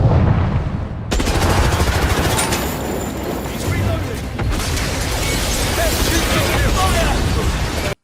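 Video game battle in which a car explodes amid sustained gunfire, a loud, dense, continuous barrage of shots and blasts with a sharp burst near the start and another midway.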